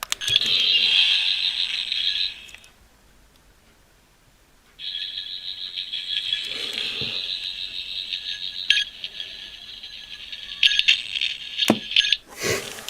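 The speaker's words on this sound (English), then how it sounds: "And 5 times you get sort of a broken sonic sound." A Doctor Who sonic screwdriver toy emits a broken, warbling electronic whine that cuts out briefly, then returns as a long steady buzzy tone with clicks and crackles, recorded close up.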